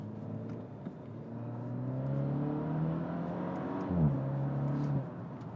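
A 2021 Maserati Ghibli Hybrid launching hard from a standstill, engine droning and climbing in pitch, then a quick gear change near the end before it pulls again, close and fairly loud with no talk.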